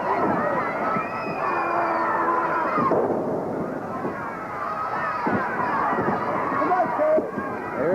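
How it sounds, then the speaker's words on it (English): Arena crowd at a professional wrestling show in Will Rogers Coliseum makes loud, rolling noise with shouts and chanting, while a commentator talks over it and sharp impacts punctuate the din. "This crowd making noise at Will Rogers Coliseum tonight"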